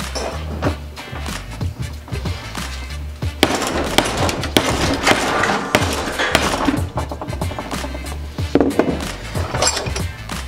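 A Craftsman screwdriver is struck repeatedly with hard whacks during a durability test, giving sharp, loud, irregular impacts over a cluttered workshop background.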